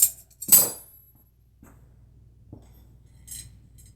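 Metal tools on a bicycle bearing lock ring of a cheap bike, a few sharp close metallic clinks and taps spread apart with quiet gaps between them.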